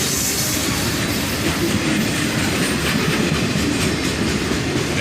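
CSX freight train boxcars roll past close by with a loud, continuous rumble and steady clickety-clack of wheels over rail joints, and no voices.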